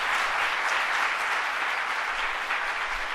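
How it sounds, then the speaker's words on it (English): Applause from an audience at the Museum of Jewish Heritage during a governor's announcement, an even wash of clapping from many hands lasting a few seconds. "let's give them a round of applause for their leadership on these issues"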